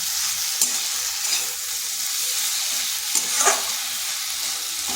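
Flat beans sizzle steadily in a hot pan as they are stir-fried with spices and green and dried chillies, with a few scraping stirs rising briefly above the continuous close frying hiss; no talking.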